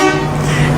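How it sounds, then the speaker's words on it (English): A loud, sustained air horn blast from a 2021 Forest River Berkshire XLT 45A motorhome, holding one steady tone throughout, close by and alone. "You've got your air horn switch, so it'll switch between the air horn"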